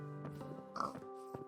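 Minecraft pigs give several short nasal oinks and snorts in quick succession, soft and fairly close, with no talking.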